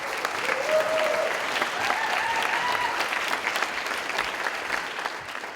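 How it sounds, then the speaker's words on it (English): Audience applause for a startup pitch at a university startup competition finale, steady dense clapping from a sizable crowd that holds for several seconds and tapers slightly, with faint voices beneath. "Let's give her a big round of applause."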